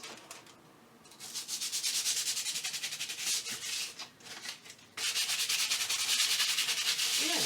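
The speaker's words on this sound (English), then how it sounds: "I'll start with the more heavy-duty sandpaper." Coarse, heavy-duty sandpaper scrubs back and forth across a board book in quick, rhythmic rasping strokes, close and moderately loud. It pauses briefly midway, then resumes.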